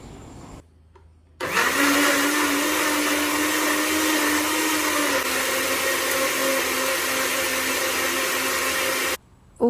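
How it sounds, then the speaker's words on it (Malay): An electric blender grinds soaked dried shrimp and onions to a fine paste, a loud steady whirring roar lasting about eight seconds after a brief quieter start, close and with no talk. "Kita masukkan dekat dalam mesin pengisar dan kita kisar halus."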